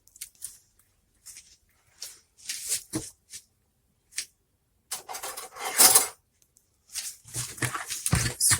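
Grated coconut is mixed by hand with warm water, heard as close, irregular wet squishing and rustling bursts separated by short silences, with no talking.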